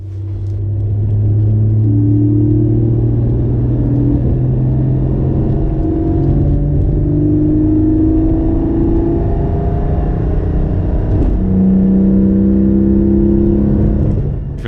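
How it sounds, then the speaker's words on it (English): A Porsche's exhaust, with its valves forced fully open, drones with a deep, steady rumble, the engine note shifting in pitch as it cruises, loud and close throughout. "I'm driving with the exhaust valves forced full open"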